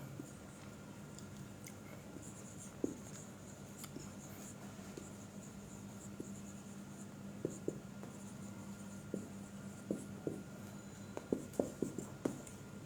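Hand writing of an example during a Bengali grammar class, with scratchy strokes and light taps coming intermittently and growing busier toward the end, over a steady room hum.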